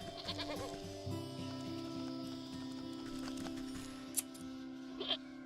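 A goat protests while being sheared with shears in the crafting game Wytchwood, giving faint wavering bleats over soft game music and ambience, with a couple of sharp snipping clicks near the end.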